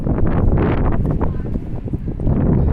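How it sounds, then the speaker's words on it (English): Wind gusts buffet the microphone at a waterfront near a docked cruise ship, a steady low roar that swells and eases throughout, loud and close. "Getting a little wind right here. Actually, a bit of wind right now."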